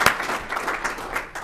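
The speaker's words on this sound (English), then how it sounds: "A round of applause for our moderator, Mike McIntyre." A short, lively burst of audience clapping for the moderator at a public conversation event, sounding close and uneven before it quickly tapers.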